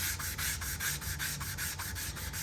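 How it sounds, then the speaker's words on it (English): Sandpaper rubs along wood with the grain in quick, even back-and-forth strokes, about five per second, close and steady with no talking. "When you're doing wood, you're always making sure that you are sanding with the grain."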